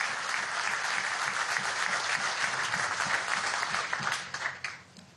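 A crowd applauds Erika Faría, mayor of Caracas, at a public transport inauguration, with broad, sustained clapping heard from a distance that fades out in the final second.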